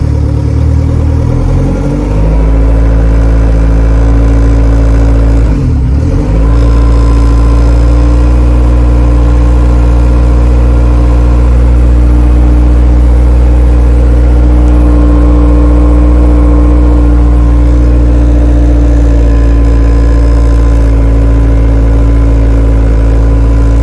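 A Honda Civic EG engine cranks briefly, catches and settles into a steady, loud idle that hums on evenly, close by, with no talk over it.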